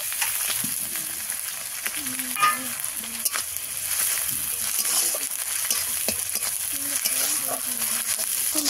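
Ginger garlic paste frying in a pan for an egg curry, a steady close sizzle with stirring and scraping scattered throughout, while a voice speaks intermittently over it.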